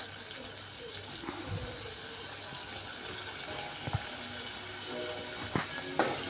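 Tomatoes fry in a pan for semiya upma with a soft, steady hissing sizzle and a few faint clinks, close but low in level.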